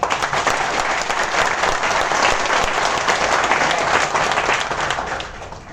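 Loud, steady clapping from a seated audience at a business training talk, a dense continuous wash of applause that fades slightly at the end.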